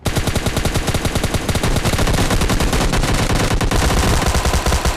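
Loud, continuous automatic gunfire from the video game PUBG Mobile Lite, a dense rapid stream of shots that runs without a break from start to finish, with no voices over it.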